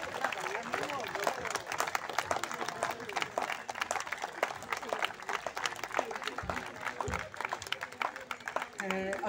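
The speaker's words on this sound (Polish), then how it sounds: "Wielkie brawa," An outdoor audience applauds a youth brass orchestra in Zwierzyniec, dense clapping and crowd noise running continuously with voices mixed in and a couple of low thumps.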